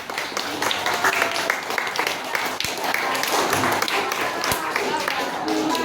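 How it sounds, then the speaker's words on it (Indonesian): An audience at a school event applauds, a dense steady wash of many hands clapping for the whole stretch with voices mixed in underneath. "Tepuk tangan dong"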